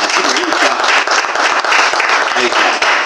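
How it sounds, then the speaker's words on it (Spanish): An audience at an art book launch at a comic shop claps enthusiastically to welcome artist Ariel Olivetti, a dense, continuous burst of applause with a few voices calling out in the mix. "El señor Ariel Olivetti, por favor, recibanlo con un aplauso"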